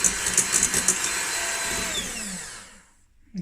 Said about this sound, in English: now we're just gonna whisk it, beat it until it's nice